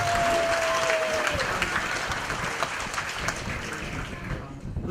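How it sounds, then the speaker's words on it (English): Guests at a December 2013 farewell function at Macquarie University burst into a big round of applause, with loud, thick clapping that holds steady and then begins to thin and fade toward the end. "a big round of applause for each and every one of you"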